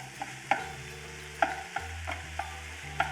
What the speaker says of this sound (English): Now then, we just need to break up the meat.